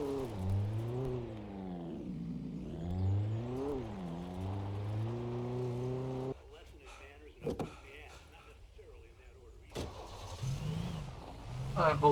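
Car engine in the video game Alan Wake, revving and shifting pitch as it drives, then cutting to quieter thumps and clunks like doors or impacts, with voices over parts of it.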